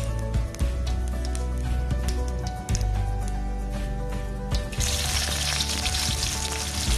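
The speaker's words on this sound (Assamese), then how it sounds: "জিৰা গুটি দিছোঁ তেলত" Cumin seeds hit hot oil in a wok just used for frying fish, and a loud, close, steady sizzle swells into a bright hiss partway through.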